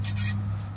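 A small metal pick scrapes and rubs continuously under the lip of a clamp on a Ford Transit to break its seal, a close, gritty rasp lasting under a second with a low engine-like hum beneath.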